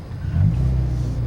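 A car engine revs up as the driver presses the gas, a loud close low rumble swelling briefly then holding at a steady drone, with no talking.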